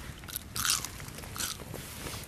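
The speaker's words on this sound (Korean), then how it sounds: "이 껍데기. 껍데기가 바삭바삭해서 너무 맛있어." Crispy skin on old-style Korean whole fried chicken is bitten at a solo bushcraft camp, giving two close, crackly crunches followed by quieter chewing.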